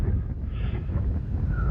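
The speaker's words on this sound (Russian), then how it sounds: "Нам не везет, у нас ветер." Strong wind buffets the microphone on the bank of the Volga river near Kalyazin during a catfish fishing trip, a steady loud low rumble with gusting roar filling the whole stretch.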